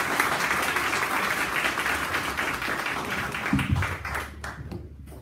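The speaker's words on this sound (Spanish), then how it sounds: "le damos un aplauso para poder iniciar" An audience applauds to welcome a guest speaker from the University of Lausanne before a lecture on homosexuality in the ancient Near East and the Bible; dense, steady clapping fills the room and then tapers off toward the end.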